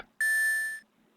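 A single sustained electronic beep from the Ace Attorney 3 video game, clean and steady, lasting about half a second before cutting off.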